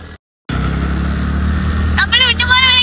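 A scooter ridden along a rough, damaged road gives a steady, close low engine hum that starts after a short silence, with a voice talking over it near the end.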